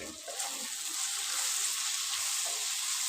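Chicken curry sizzles steadily in a pan while salt is mixed in: a continuous bright frying hiss, close and even, with faint soft stirring movements underneath.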